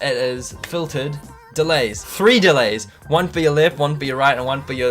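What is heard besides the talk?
None of the usual background noises is heard.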